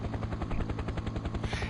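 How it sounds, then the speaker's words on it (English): Helicopter rising in the farming video game Farming Simulator 17, a steady rapid rotor chop that pulses evenly throughout, loud and close with no talking. "and then you send the helicopter up"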